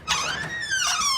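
A historic hotel door swings open onto a balcony, giving a long, wavering high-pitched hinge squeak that rises and falls across about a second, fairly close and loud, with no voices over it.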